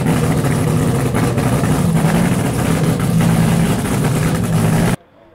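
A Brad Anderson engine, both block and cylinder head, 431 cubic inches, in a methanol drag racing car runs loud and close with a steady, throbbing idle, then cuts off abruptly near the end.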